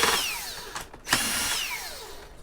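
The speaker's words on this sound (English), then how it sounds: "there goes my drill" A power drill whines up and down while an optical fiber device is scrapped for e-waste, its pitch sweeping with a brief dip midway, loud and close, with no talk.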